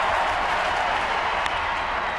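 Baseball stadium crowd applauding a pitcher at a San Francisco game, a steady broadband roar of clapping and cheering that holds evenly loud for the full stretch.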